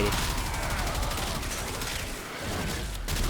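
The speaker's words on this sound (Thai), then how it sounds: "แล้วก็ยิงแล้วระเบิดตัวรอบข้างตายด้วย" Dense, continuous gunfire and explosions from the video game Warframe, loud and unbroken across the whole stretch, with rapid bursts blending into a wall of noise.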